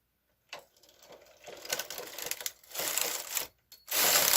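A KH940 knitting machine carriage running through a pattern, giving bursts of clattering, ratcheting mechanical noise with brief pauses between passes, close and fairly loud.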